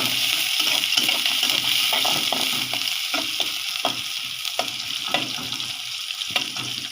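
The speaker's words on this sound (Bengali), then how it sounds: "পেঁয়াজ দিয়ে দিলাম আজকে সবজিতে আমি আদা রসুন বাটাও দিব" Onions fry in a pan for a vegetable curry, giving a loud, continuous sizzle with repeated scraping strokes as they are stirred.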